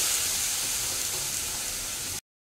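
Spiced masala sizzling steadily in a pan just after water is poured in, a continuous close, bright hiss that holds evenly throughout before cutting off abruptly.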